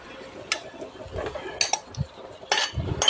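Clinks and scrapes of utensils against a cooking pot as pork is added for Filipino menudo, a few sharp metallic taps amid soft stirring and low kitchen noise.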